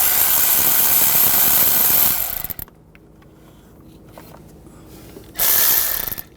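Ratchet wrench loosening the bolts on a crankshaft position sensor of a 2007-2013 BMW X5 with the 3.0L inline-six, a loud steady mechanical whirring that cuts off partway through, then returns briefly after a quiet stretch.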